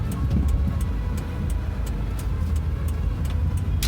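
First-generation Hyundai i10 hatchback pulling under heavy throttle, a steady low engine drone and road rumble heard from inside the cabin, with faint intermittent ticking over the top.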